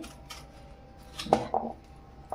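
A knife cuts through a firm, medium-ripe guava, giving a few faint scraping and clicking contacts against a plate or board in a quiet kitchen.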